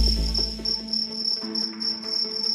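Crickets chirp steadily in a high continuous trill, with softer insect calls and low rustling beneath, close and clear with no talking.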